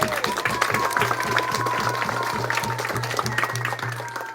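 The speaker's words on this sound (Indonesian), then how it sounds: "tepuk tangan yang meriah" Lively, continuous applause from an audience at an official district visit by a regent, steady, dense clapping with a regular beat running throughout, crowd noise in the background.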